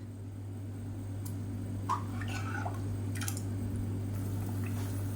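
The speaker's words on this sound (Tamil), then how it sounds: "இப்போ பாருங்கள் நல்லா கொதிக்க ஆரம்பிச்சிருச்சு" Tomato gravy boiling in a pan gives faint, scattered bubbling pops and wet squishes over a steady low background hum.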